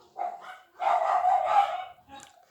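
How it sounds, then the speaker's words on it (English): A dog barks and howls in a drawn-out, yowling burst, followed by a shorter yip, close and fairly loud. "my dogs are barking"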